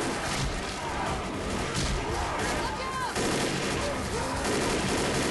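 Dense, continuous gunfire from a Left 4 Dead match fills the whole stretch loudly, with rapid overlapping shots and chaotic game noise and no pause.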